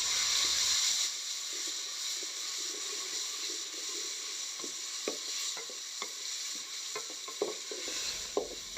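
Tomatoes go into a pan of onions already browning and get stirred, giving a steady close sizzle broken by scraping stirs and small clacks of the spoon against the pot, with no talking.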